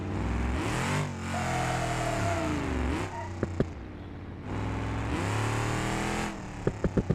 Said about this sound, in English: the transmission doesn't like going into high gear that much still